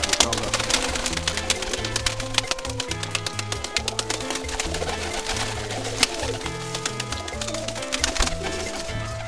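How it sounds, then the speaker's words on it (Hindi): Pigeons coo in low, repeated rolling phrases that overlap steadily and close by, with soft fluttering and tapping mixed in. "ये कबूतर आपको नज़र आ रहा है"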